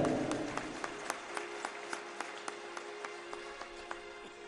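Audience at a Jain religious birth-celebration festival clapping together, a steady crowd applause with sharp rhythmic claps standing out at a regular beat, fairly loud and sustained throughout.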